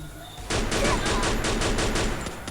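Rapid automatic gunfire in the shooter game Free Fire erupts suddenly and continues as a dense, loud burst of evenly spaced shots for about two seconds, with no talking.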